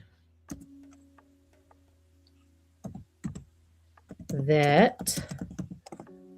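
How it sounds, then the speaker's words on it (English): Keys tapped on a computer keyboard in a quiet room, a few sparse clicks spread out, then a person talks briefly alongside them. "I'm typing the thought of it so I can have it in here?"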